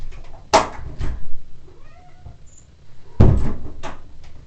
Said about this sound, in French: c'est mon chat qui fait miaou